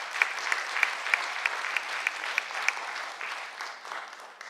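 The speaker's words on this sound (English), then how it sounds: "So one more round of applause, please" An audience claps for students honored for their school mural project, a steady round of applause with a few sharper individual claps standing out, even and sustained, then easing off slightly at the end.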